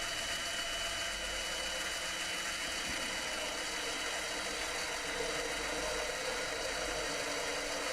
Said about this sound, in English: This is where I'm turning some aluminium.